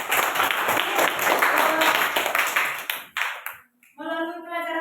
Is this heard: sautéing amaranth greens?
no